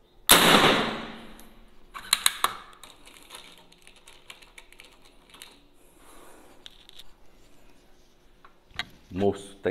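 Air rifle shots from a rifle fitted with a Henbaker CY798 camera scope, with a sharp loud crack at the start and another near the end, quieter clicks and handling noises between.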